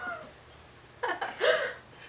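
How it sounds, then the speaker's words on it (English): A house cat lets out a short meow, a couple of quick rising cries close to the microphone in an otherwise quiet kitchen. "That was the cat."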